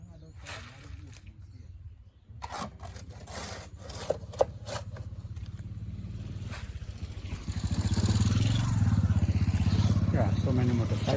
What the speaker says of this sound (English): Yeah, so many motorcycles in the village